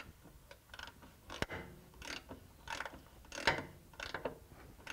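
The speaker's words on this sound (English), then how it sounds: "With the oil up to level, we can now replace the filler plug. It's tapered and we can tighten." A tapered differential filler plug on a Land Rover 90 being tightened with a hand tool, giving faint close metallic ratcheting clicks and scrapes in short irregular bursts, with no voices.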